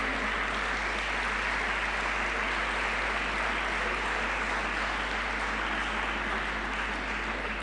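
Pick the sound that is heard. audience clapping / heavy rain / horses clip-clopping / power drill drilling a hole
audience clapping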